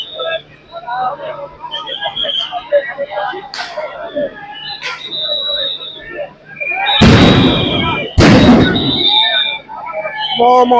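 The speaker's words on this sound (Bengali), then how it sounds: "কিন্তু সাউন্ড গ্রেনেড এবং ফাঁকা বুলেট তারা নিক্ষেপ করছে" Police fire sound grenades and blank bullets at students during a street protest, with two loud blasts close together near the end, over a crowd's shouting and steady talk.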